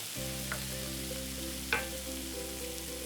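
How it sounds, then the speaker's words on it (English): Hot pan of shrimp deglazed with about half a cup of dry Pinot Grigio, giving a steady close sizzle with a few brief sharper crackles and spatters, no voices. "we're gonna deglaze the pan with a little bit of wine"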